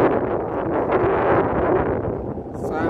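Strong storm wind roars steadily across the microphone in a dense, continuous rumble that stays loud throughout.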